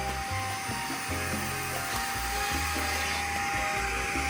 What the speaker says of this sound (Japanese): このクリーナーを使えば水拭きと掃除機をかけたのが同時でできるようになります